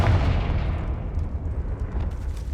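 The Confringo blasting spell explodes in the Hogwarts Legacy video game, a deep, heavy boom whose rumble rolls on and slowly fades over a few seconds, with no voices.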